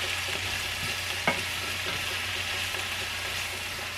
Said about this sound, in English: This is only going to take about maybe 2 minutes for the spinach. And then just stir that around.